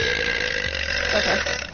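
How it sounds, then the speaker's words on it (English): A single long, loud burp rumbles close to the mic and trails off toward the end. "You can just use my burp as a beep."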